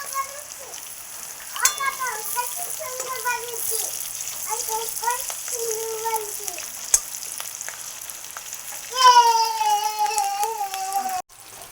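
Whole, lightly parboiled garlic cloves sizzle steadily in hot oil in a pan while chillies cook, a constant bright frying hiss running beneath a person talking throughout.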